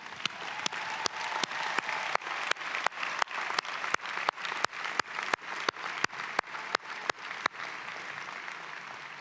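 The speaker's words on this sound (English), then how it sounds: "let's take a moment and give a big round of applause for those celebrating tomorrow." A large university commencement crowd at NC State applauds in a steady, dense wash of clapping, with sharper nearby claps popping through at regular intervals for about nine seconds, no talking over it.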